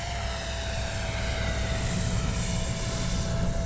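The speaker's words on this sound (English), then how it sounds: "A nice slow pass here." A Freewing 70mm F9F-5 Panther RC jet makes a slow pass with flaps down: a steady, close, high-pitched electric ducted-fan whine over a rumbling outdoor background.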